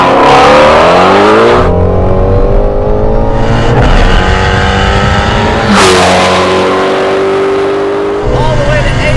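A Hennessey HPE850 Shelby GT350 Mustang revs hard on a race track, climbing loudly through the gears toward an 8,000 RPM redline with sharp shifts between pulls, and a voice is heard alongside the engine.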